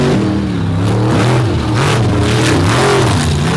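Race cars accelerate off the start of a dirt-track finals, engines revving hard and rising in pitch together, loud and close, with overlapping tones and no talking.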